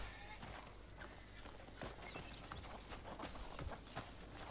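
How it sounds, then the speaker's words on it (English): Hoofsteps of a robot horse in the video game Crimson Desert, a steady run of clopping beats over busy game ambience with bird-like chirps. "Is that a robot? It is. That's a robot horse."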